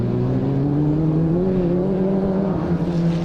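A rallycross car, a BMW in a pre-95 classic final, sliding through a corner, its engine a loud continuous drone with rising and falling pitch, close and unbroken, no voices.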